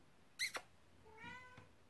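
A domestic cat meows indoors, one short sharp meow followed by a longer, softer drawn-out meow, both fairly quiet and close with no talking over them.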